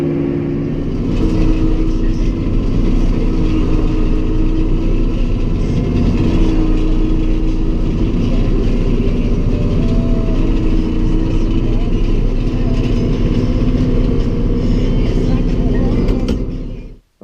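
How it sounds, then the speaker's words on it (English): Snow blower clearing snow near a barn, a loud steady engine drone and churning roar held for about sixteen seconds at close range, then cutting off abruptly at the end. "you saw I was just blowing a little bit of snow"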